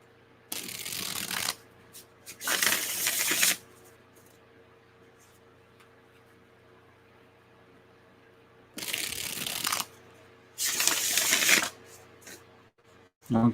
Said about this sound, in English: Oh, one last shuffle.